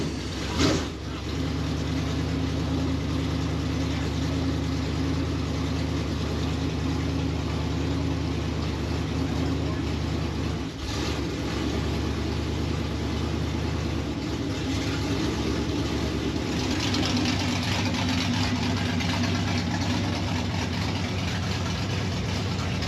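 A 602 late model race car engine idling steadily, a low, continuous rumble with a brief blip near the start and slight variations, heard up close for over twenty seconds.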